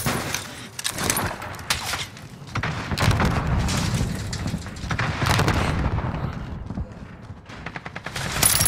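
Frag grenade blasts and gunfire in a Call of Duty Warzone Rebirth match, heavy booms and bursts of rapid shooting layered densely over continuous rumbling game noise.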